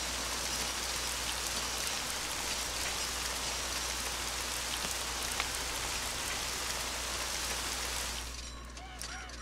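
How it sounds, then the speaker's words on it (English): Steady, dense rain hisses across a RollerCoaster Tycoon 3 theme park, a loud even wash that fills the scene and eases slightly near the end as other sounds surface. "Here comes the rain again."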